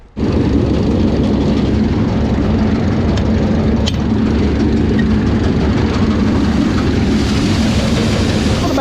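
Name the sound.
dump truck engine while driving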